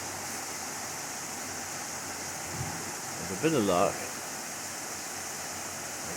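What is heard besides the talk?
water rushing into a canal lock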